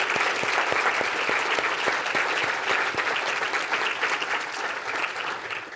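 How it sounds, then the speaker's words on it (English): A large audience at an annual design association meeting applauds award recipients, producing sustained, dense clapping with sharp individual claps standing out, steady and fairly loud from start to finish. "Let's please applaud Jan Johnson and Tara McCracken"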